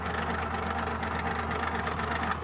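A Bugatti Type 57C Atalante engine, running on its original spark plugs, idles steadily and close up with a smooth, even rumble and no voices.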